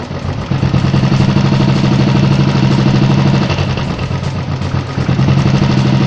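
A Royal Enfield EFI motorcycle engine idles during idle adjustment with a steady, rapid putter and slight clatter, close and fairly loud, briefly dipping then settling back.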